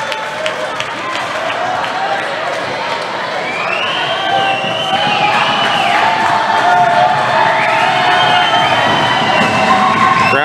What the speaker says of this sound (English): Crowd's getting loud.